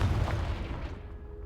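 A single booming blast from the Confringo spell in Hogwarts Legacy, loud low thump at the start that rumbles and fades out over a second or so.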